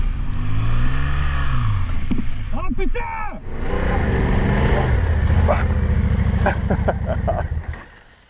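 A motorcycle engine drones and revs unevenly close by, labouring through sand on an offroad trip in Albania, with a rider exclaiming partway through before the noise fades.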